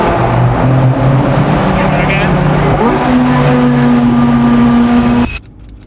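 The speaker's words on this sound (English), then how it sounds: "we're just seeing some supercars and hypercars go back to the paddock from going up the hill" Supercars and hypercars rolling back to the paddock after runs up the hill at Goodwood on a hot day, engines droning and shifting pitch as they pass close by, with people talking over them before the sound cuts off near the end.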